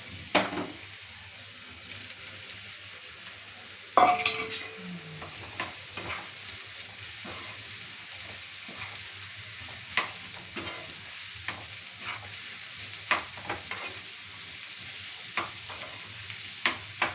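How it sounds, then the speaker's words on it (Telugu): Bitter gourd and onion fry in a pan with a soft, steady sizzle, broken by a clatter of pieces dropping in and repeated spoon taps and scrapes as they are stirred, close and without talking. "వేగిన తర్వాత కాకరకాయలు వేసేసుకోవాలండి."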